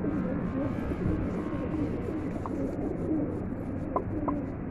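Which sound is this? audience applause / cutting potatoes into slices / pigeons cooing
pigeons cooing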